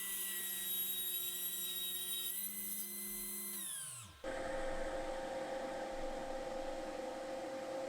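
A table saw with a panel sled trims about an eighth of an inch off an end-grain board for a cutting board. The blade whines at a high pitch, dips under load, spins down, then the motor noise continues steadily at close range.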